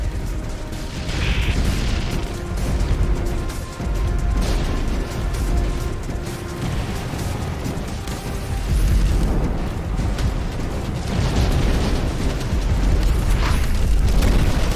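Continuous rumbling booms and bursts of explosions with mechanical noise from the video game X-Morph: Defense, loud and dense throughout, no speech.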